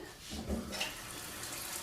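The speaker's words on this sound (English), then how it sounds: "tap water." Tap water runs from a faucet into a measuring glass, a steady broadband rush holding for about two seconds at moderate, close level, with a brief gurgling swell near the start and no talking.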